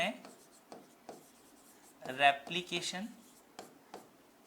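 Handwriting on a board during a Hindi biology lesson about DNA replication, with short scratchy strokes and a denser burst of scribbling, heard close under light background noise.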